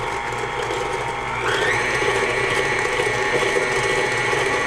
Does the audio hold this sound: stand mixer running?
yes